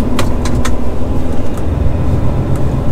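Cars on a German road, a steady close traffic rumble with vehicles passing continuously and a few brief higher clicks or squeaks on top, no talk.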